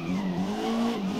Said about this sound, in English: she's torturing those tires there